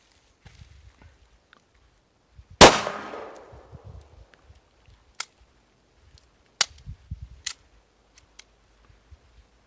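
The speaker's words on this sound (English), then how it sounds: "So we're gonna fire this two-handed and see what we get." A single sharp gunshot from a Glock 26 pistol fired two-handed cracks out loud and close, with a long ringing decay, followed by a few faint clicks and small metallic handling sounds.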